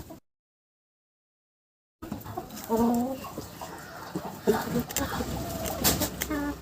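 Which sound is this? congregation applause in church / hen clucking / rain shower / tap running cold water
hen clucking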